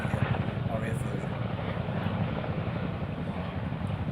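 A Cougar helicopter, a stretched military Puma, flies nearby with a steady, unbroken rotor and engine drone that holds at an even loudness throughout.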